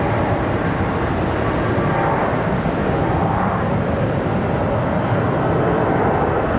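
An arriving airliner descends to land at Charlotte Douglas International Airport under dark clouds, giving a loud, unbroken wash of engine roar that stays constant throughout, with no speech.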